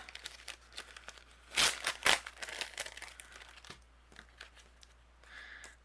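A plastic card-storage bag crinkles as a greeting-card envelope is pushed inside, giving close, bursty rustling with two loud crunchy peaks near the middle and softer rustles after, no voices.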